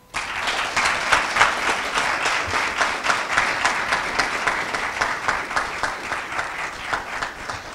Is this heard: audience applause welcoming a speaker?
yes